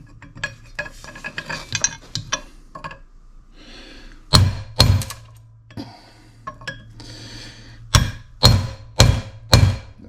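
Sharp metallic hammer blows strike a rear axle bearing ring on a 2003 Jeep Grand Cherokee, loud and close, landing singly and then in a quick series of four or five, with quieter clanks and handling noise between.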